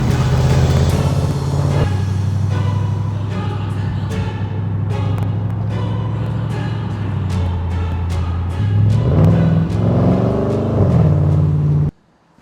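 Mansory Edition Audi RS6, rebuilt after fire damage and not yet tuned: a loud, deep engine drone idles steadily, swells into a stronger rev near the end, then cuts off abruptly.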